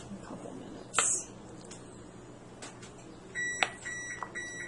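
A kitchen oven timer beeps while vegetable lasagna is being made: a short series of high, thin electronic beeps, moderately loud and evenly spaced. A brief clatter comes just before them.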